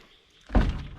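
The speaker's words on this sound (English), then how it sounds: "let's get the door open." Door of a 1962 Hillman Minx, a car that sat for 40 years in the woods, being pulled open: a brief scrape and dull thunk after a quiet moment, followed by a short rattle.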